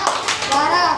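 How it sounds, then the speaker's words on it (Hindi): Children clap their hands together in a classroom, counting out rhythmic claps, with a voice and chatter running over the bright, fairly close clapping. "12 ताली आई।"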